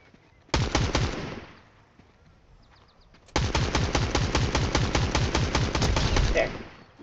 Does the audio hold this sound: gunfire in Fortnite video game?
yes